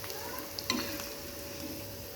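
Bitter gourd slices frying in hot oil for chips, a steady close sizzle with a brief clatter of stirring near the start and no talk.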